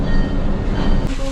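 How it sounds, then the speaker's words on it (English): An authentic logging-era steam locomotive at the Mount Rainier Scenic Railroad, a loud, steady rumble of the train close by with a faint squeal near the end. "Locomotives here are authentic logging era machines."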